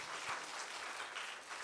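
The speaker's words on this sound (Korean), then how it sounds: "유치부에 우리 유치부실에 있는 애기 엄마들 우리 박수 한번 내" Applause from the mothers in a church's preschool room, a soft, steady patter of clapping heard from a distance for under two seconds, with no voices over it.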